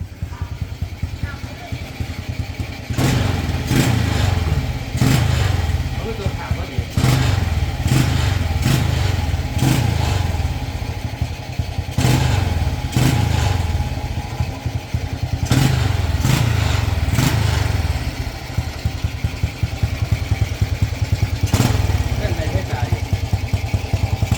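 Rebuilt Honda Wave motorcycle engine running loud and close, with a steady idle rumble and repeated revving bursts throughout. Someone talks over it at times.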